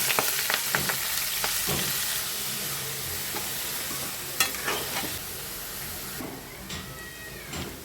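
Onions dropped into hot oil with mustard seeds in a pan for a dried prawn curry, a loud crackling sizzle with stirring clatter, easing toward a softer hiss near the end, no talking.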